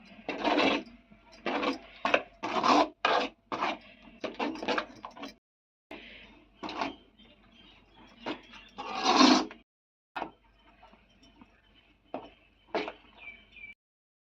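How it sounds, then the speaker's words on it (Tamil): Masala paste for a cabbage gravy is stirred in a pan, with close scraping and rubbing strokes in irregular bursts and short pauses between them. "இப்போ நம்ம அரைச்சி வச்சுக்கிற பேஸ்ட்டை சேர்த்துடலாம் இப்போ எல்லாம் நல்லா கலந்து விட்டுக்கலாம்"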